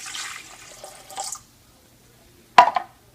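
Warm water for bread dough is poured from a measuring cup in two short splashing bursts, close and fairly loud, separated by a near-silent pause.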